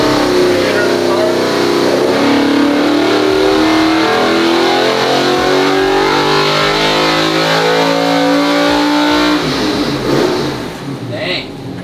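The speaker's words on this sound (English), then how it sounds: "Kind of get it revved up." A Corvette C8 fitted with a new 2000 hp engine revs on a dyno, a loud close engine note climbing steadily in pitch before dropping off near the end.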